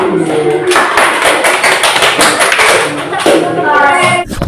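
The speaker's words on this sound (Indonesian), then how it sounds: "Tepuk tangan untuk kelompok 4, silakan duduk." Classroom clapping for a group of pupils, a close, loud burst of many hands in quick uneven rhythm, with children's voices mixed in at the start and end.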